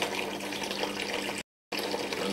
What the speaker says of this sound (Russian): Теперь мы выливаем эту адскую смесь в трубку с обычной водопроводной водой.